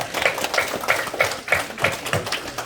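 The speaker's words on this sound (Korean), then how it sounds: "모든 영광 받으실 주님 우리 하나님 여호와 하나님을 찬양하며 박수 하나님께 올리겠습니다" Steady, evenly paced clapping from an audience at a Christian prayer meeting and special lecture in an auditorium, a crisp run of claps repeating at a quick regular beat throughout.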